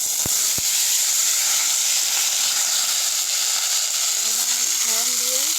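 Ridge gourd, potato and long beans sizzle steadily in hot oil tempered with whole spices, a dense, even hiss with a couple of sharp clicks near the start and a brief voice toward the end.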